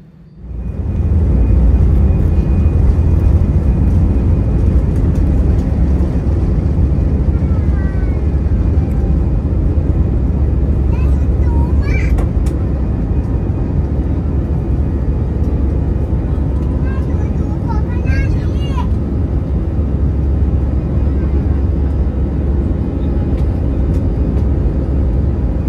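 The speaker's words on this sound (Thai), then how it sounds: "ตอนนี้เครื่องบินก็พร้อมออกเดินทางนะครับแท็กซี่ไปรอวิ่งขึ้นจากทางวิ่ง" An Air Asia airliner taxis toward the runway at Bangkok Don Mueang, a steady loud engine rumble and whine heard from inside the cabin near the engine, continuous with brief faint higher chirps partway through.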